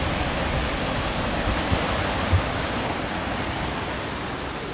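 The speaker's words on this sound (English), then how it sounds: "listen to that, and that's a water wheel" Steady rushing, splashing water from the wheel of a former corn mill on a coastal stroll, a broad continuous churning roar that holds evenly throughout with no voices.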